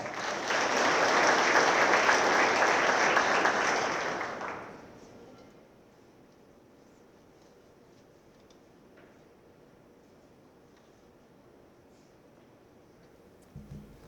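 A crowd at a high school athletic hall of fame ceremony claps loudly for about four seconds, then the applause fades out abruptly, leaving a quiet room with faint background noise and a small knock near the end.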